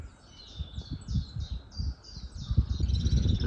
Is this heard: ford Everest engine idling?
no